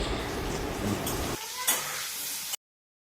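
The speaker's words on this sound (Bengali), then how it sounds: "আলু ভাজা আর বেগুন ভাজা, মানে আলু বেগুন একসঙ্গে ভাজা করে নেব" Potatoes and eggplant fry together in a pan with a dense, close hiss and sizzle that drops away abruptly partway through, leaving faint clinks before the clip goes silent.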